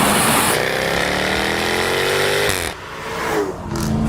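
A sports car engine that does 0 to 60 in 3.5 seconds roars loud and close, holding a high rising rev, then drops briefly before climbing again.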